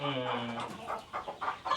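Native country chickens on a poultry farm in Madurai cluck faintly in a low, uneven patter, with some quiet background murmur.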